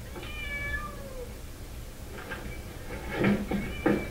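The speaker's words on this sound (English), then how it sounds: "A well-practiced cat quickly recalls the actions that help it escape to its reward of food." A cat in a puzzle box meows once near the start, a drawn-out clear cry, followed by knocks and rattles from the cupboard-like box as it works its way out.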